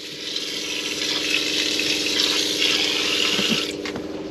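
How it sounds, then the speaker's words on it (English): Water runs steadily from a tap with a pump humming, draining straight out through the floor of a converted old military truck interior, a continuous close rushing with a low mechanical drone, no speech. "You can hear the water. Basically the water just drains straight out the floor at the moment."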